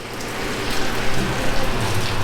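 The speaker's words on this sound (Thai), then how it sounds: "ตอนนี้ฝนตกแล้ว" Steady rain falls close by and fairly loud, a dense continuous patter of drops on surfaces with no voices over it.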